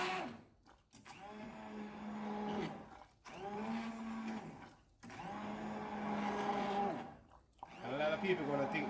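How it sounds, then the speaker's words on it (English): A small handheld mixer purees cooked pumpkin for Jamaican pumpkin steamed fish, its motor whirring steadily in three long bursts with short pauses between them, loud and close. "I'm going to use this little hand mixer"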